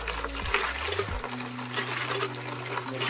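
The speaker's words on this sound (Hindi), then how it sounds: "इसमें भरेंगे पानी और पेड़ में पानी डालने के लिए हम लोग पानी चला लेते हैं" Water gushes from a hand pump outdoors, filling a container for watering trees: a continuous splashing flow with creaky tonal pump strokes early on and no talking.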